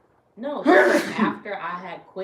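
A single sharp human sneeze bursts out close by, immediately followed by a person talking.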